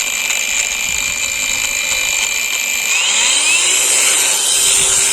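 A cordless angle grinder runs at full power, a loud, continuous high-pitched whine held close throughout, with its pitch climbing further partway through as it spins up.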